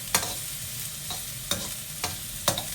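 Carrots and beans sautéing in a pan for multigrain vegetable noodles, a steady soft sizzle broken by four sharp scraping stirs spaced roughly half a second to a second apart, close and fairly loud with no talking.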